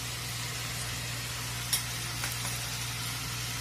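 Poi saag frying in a pan while being stirred, a steady quiet sizzle with a low hum beneath and one or two soft scraping taps.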